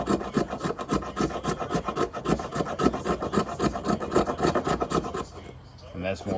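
Buck 863 Selkirk knife blade shaving wood into fire tinder, a close, rapid back-and-forth rasping with about two strokes per second, stopping near the end.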